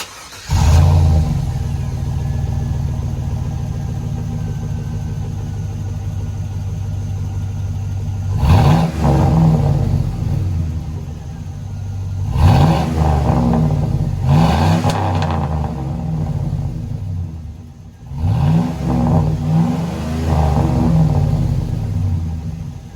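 A 2002 GMC Sierra revs through a Flowmaster Super 10 exhaust: a steady, loud idle rumble broken by three sharp throttle blips that swell and fall back, close to the mic.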